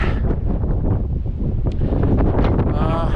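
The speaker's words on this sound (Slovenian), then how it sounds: "Zdaj malo piha, še minuto prej je." Wind gusting across the summit of the Pico Viejo volcano on Tenerife at about 3,000 metres, loud buffeting against the microphone, rising and falling in rough waves.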